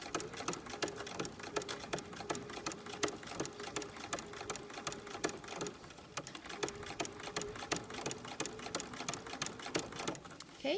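A sewing machine with a ruffler foot pleating fabric, running steadily with a fast regular mechanical clatter throughout, close and moderately loud, with no pauses.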